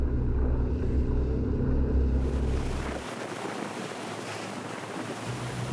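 A Ranieri International Cayman 38.0 Executive Trofeo powerboat, engines near 2,800 RPM, starts to plane around 12 knots. A deep engine drone shifts partway through into a broad rush of water and wind noise.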